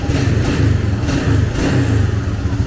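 A 1987 Suzuki LT300E ATV engine running after fuel system repair, a loud, close mid-pitched engine drone with a pulsing rhythm and slight surges in revs, alone without talk.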